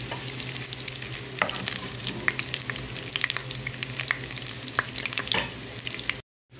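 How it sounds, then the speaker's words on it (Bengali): Kofta kebabs fry lightly in a pan with a steady close sizzle, broken by sharp clicks and scrapes of stirring and turning, before sound cuts out briefly at the end. "এখন কাবাবগুলো এরকম হালকা ভাজা হয়ে গেছে।"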